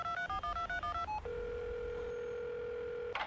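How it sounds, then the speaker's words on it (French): A phone placing a call after a voice-assistant request: a rapid run of dialing tones followed by a long steady ringback tone, fairly faint and unaccompanied by speech. "Siri, appelle Kevin."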